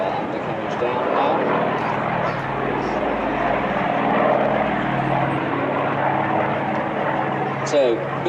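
A 1958-built Douglas DC-6 propeller airliner flies at the Biggin Hill airshow, its piston engines droning loudly and continuously with a steady rumble, while a commentator talks over the sound.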